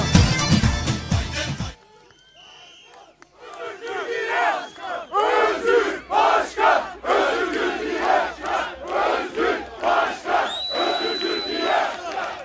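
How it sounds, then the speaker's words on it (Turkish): A large crowd at a Republican People's Party (CHP) political rally in Trabzon, Turkey, cheers, chants and applauds loudly and continuously after a short pause, with rhythmic swells of roaring voices and clapping. "Coşkuyla alkışlıyoruz."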